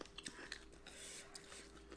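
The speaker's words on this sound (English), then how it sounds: "I want to see you chew it" Raw ginger root is chewed up close in a ginger eating challenge, with wet crunching bites and mastication. Faint voices sit underneath.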